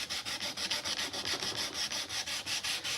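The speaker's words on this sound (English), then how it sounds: "I'm hand sanding this knife to make it look better so it doesn't have any annoying scratches in it" A steel knife blade is sanded by hand with steady back-and-forth strokes, each a soft hissing rasp in an even rhythm, close and fairly quiet with no talking.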